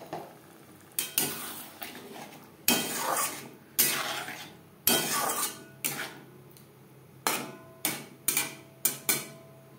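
Potatoes are sautéed with spice paste in a pan, a spatula scraping in rhythmic bursts roughly every half second to a second, each stroke followed by a brief sizzle, close and clear with no talking.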